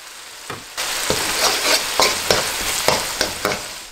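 Thick braised eggplant sauce for Sichuan-style fish-fragrant eggplant is stirred in a hot pan, giving a sizzling, frying hiss broken by repeated close scraping strokes at a steady rhythm, with no talk.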